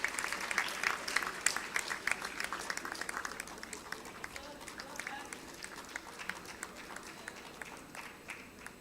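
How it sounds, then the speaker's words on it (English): A crowd at an annual college day award ceremony at a medical college in New Delhi claps steadily for an award recipient. The applause is faint and distant, a sustained patter that slowly thins out. "A big round of applause."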